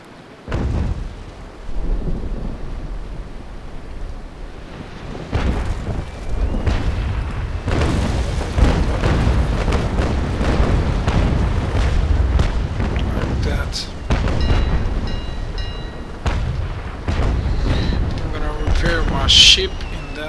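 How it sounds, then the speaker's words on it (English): Repeated heavy booming cannon broadsides from sailing warships in the naval combat game Naval Action, a dense rumbling barrage of loud blasts throughout, with a voice talking over the gunfire. "I can get behind it and shoot another broadside"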